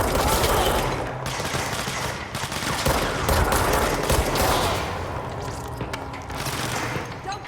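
Sustained bursts of gunfire in the video game Control, a dense rattling fusillade of automatic weapons with booming impacts that runs loud and continuous throughout, with scattered shouting from characters mixed into the battle.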